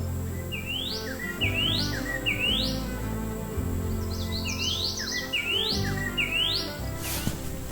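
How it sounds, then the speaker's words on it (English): A bird repeats a bright, rising whistled phrase over and over, with other chirps and a faint insect buzz in the background. "The birds are always there to keep me company with their songs."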